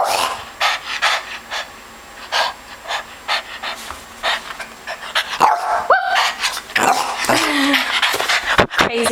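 Up close, a dog pants in quick rhythmic bursts and lets out short barks and yips toward the end, with a person's voice briefly mixed in.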